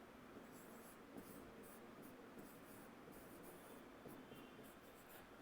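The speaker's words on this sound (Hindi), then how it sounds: "सिर्फ मैंने इक्वेशन को उसके नीचे लिख दिया" Marker or chalk scratching out an equation on a classroom board during a Class 10 maths lesson, a steady run of soft, close strokes with short rhythmic bursts and no talking.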